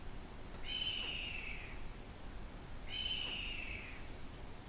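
A bird creature in the PSVR game Shadow Legend gives two separate descending whistling screeches a couple of seconds apart, clear but fairly faint over a quiet low background.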